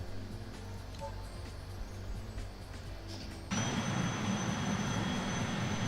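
A Boeing 747 in a flight game has its jet engines running as a low, steady hum that jumps into a louder, broadband roar with a thin high whine partway through.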